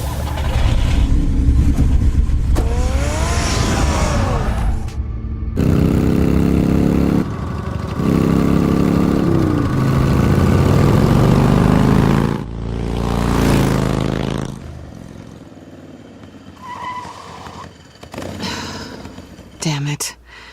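Engine sounds from a car in the Telltale Batman game, revving and surging loudly through most of the passage with breaks and pitch sweeps, mixed with other game audio, then quieter towards the end.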